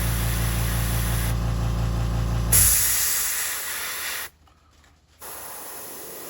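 An airbrush sprays paint onto a shad fishing lure, a steady loud hiss that shifts in tone midway, then cuts out briefly before resuming.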